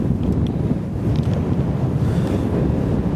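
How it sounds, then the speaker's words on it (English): Outdoor wind buffets the microphone in a loud, continuous low rumble, gusting unevenly throughout with no speech. "It is a little windy."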